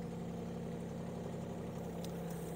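A micro digger's engine runs at minimum revs with no power, giving a steady, even low-pitched drone that holds throughout at moderate distance, with no talk.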